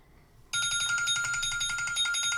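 A mobile phone ringtone cuts in abruptly after a brief quiet moment, then plays a loud, steady, rapidly pulsing electronic trill with bright, ringing tones that continue without pause.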